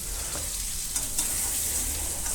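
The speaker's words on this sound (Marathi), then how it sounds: "जे काही मिडियम साईजचा कांदा कापून घेतला होता तो टाकून घेतलेला फोडणीमध्ये" Dense, continuous sizzling of chopped onion frying in hot oil for wheat rava upma, loud and close, with faint clinks of a utensil.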